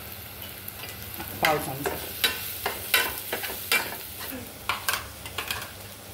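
Ground spices including garam masala, red chilli powder and turmeric sizzle in a pan for a dhaba-style garlic methi dish, with repeated scraping stir strokes and spatula clinks over the frying; a voice speaks briefly.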